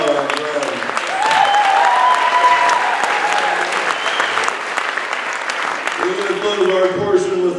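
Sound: applause

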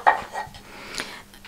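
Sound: child cutting toy vegetables with wooden knife on cutting board

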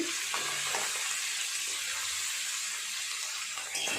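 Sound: katla fish head frying in oil

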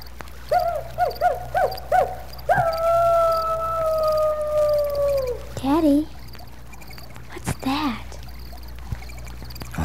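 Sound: coyote howling

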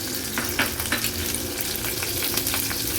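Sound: garlic and onion frying in hot oil

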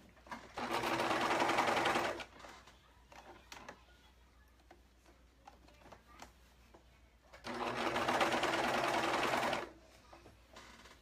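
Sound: serger sewing machine stitching dress fabric

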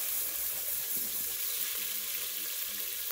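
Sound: spaghetti sauce ingredients sautéing in hot oil

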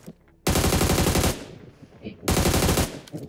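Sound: AUG assault rifle firing in BGMI video game

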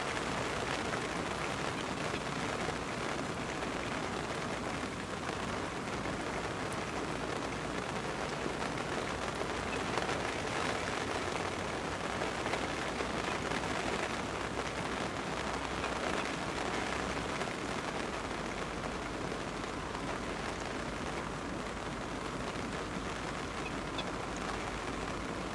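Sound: rain falling

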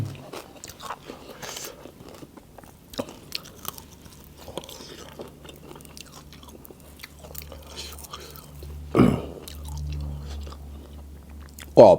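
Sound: chewing crispy pork

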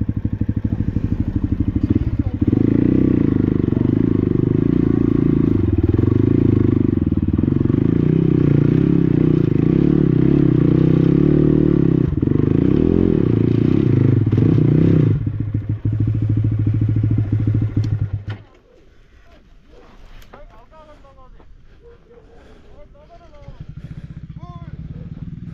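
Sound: motorcycle riding on a rough path

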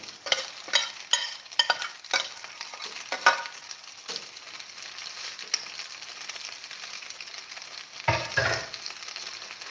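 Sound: crushed wheat or barley groats added to a pan and stirred

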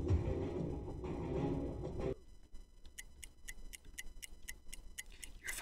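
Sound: clock ticking in the Roblox game The Trials

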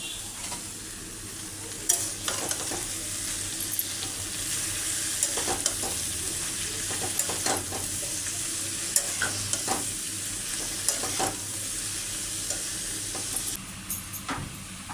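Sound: cabbage being fried and stirred in a pan

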